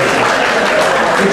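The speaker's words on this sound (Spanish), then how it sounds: "Palmas, compañeros, les pido." A graduating naval school class, a naval lyceum promotion at its ten-year reunion, breaks into dense, sustained applause, many hands clapping loudly and continuously at close range.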